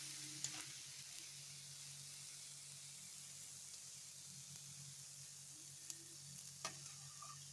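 Onion pakoras fry quietly in oil, a faint continuous sizzle with a low steady hum underneath and a few soft clicks and clatters.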